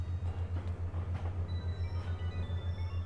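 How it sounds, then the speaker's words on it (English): A train station in a Pokémon game gives a steady rhythmic mechanical hum with a regular pulsing beat, like a train idling at the platform, alongside soft clicks and faint tonal ambience. "Okay, this is the train station."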